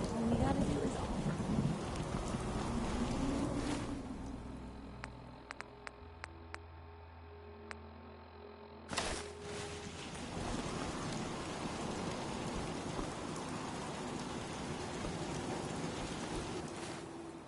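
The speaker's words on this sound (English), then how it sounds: "Oh my, it's raining again." Steady rain falls throughout, with a deep rumble of thunder swelling at the start and a sharp crack near the middle before the downpour continues evenly.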